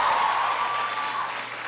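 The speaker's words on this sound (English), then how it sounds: "Give her a big round of applause." A crowd at a presidential education event applauds Washington mayor Muriel Bowser in a brief burst of clapping that fades gradually away.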